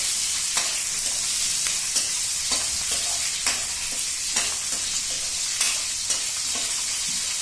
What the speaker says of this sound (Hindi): इसलिए लहसुन को हमें कम ही भूनना है।